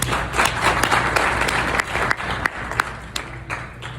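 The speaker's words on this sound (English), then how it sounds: "You deserve a round of applause." A room full of people gives a warm, steady round of applause, with a few sharper individual claps standing out as it gradually tapers.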